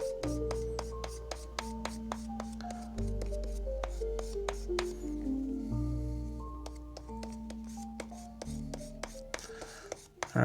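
Steady, continuous abrasive rubbing as a leather edge is sanded, a dry rasping scrape that carries on evenly for several seconds with small clicks throughout.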